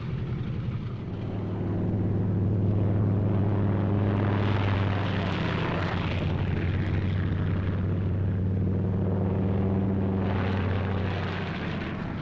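WWII Eighth Air Force warplanes take off in pairs, their propeller engines building to a loud, steady drone that holds for most of the stretch, with no voices.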